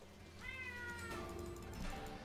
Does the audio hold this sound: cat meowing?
yes